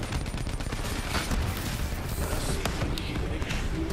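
Gunfire in Call of Duty: Black Ops 3, dense continuous shooting with loud overlapping shots throughout four seconds of intense game action, with a voice faintly present underneath.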